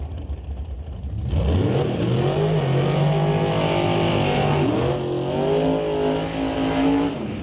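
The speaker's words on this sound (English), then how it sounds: "So there we go, a couple of burnouts." Top dragsters roar through burnouts at an NHRA Northwest National Open Series drag race: loud, close engines rev hard with rising, sustained howls and tire squeal after a brief quieter start.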